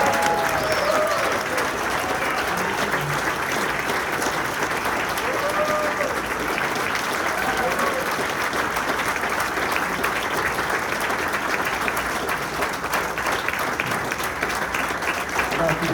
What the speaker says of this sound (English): Please give Bobby a round of applause for all of his hard work